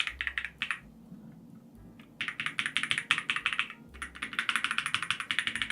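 Rapid keystrokes on an Epomaker Tide aluminum-cased mechanical keyboard with its case foam removed, bursts of crisp clacky typing broken by a short pause, close and clear with no talking.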